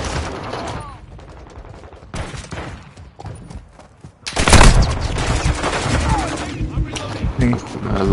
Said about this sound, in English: Because I'm definitely shooting at them first.